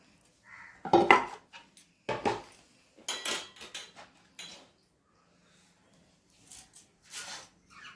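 Sago being mixed by hand with lukewarm milk and sweet yogurt in a bowl, giving soft wet squelches and a few sharper clinks against the bowl in short separated bursts, close and alone.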